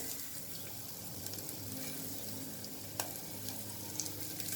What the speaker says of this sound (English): I'm next going to add the onions alone.